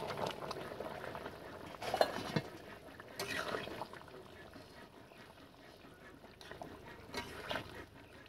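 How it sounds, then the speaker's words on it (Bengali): Fish simmers in a bubbling village curry, a low gurgling boil with a few liquid splashes and clinks, fairly faint, and a voice is heard briefly in the background. "তরকারি এবার জাল হয়ে গেছে, এবার মাছ দিয়ে দেবো।"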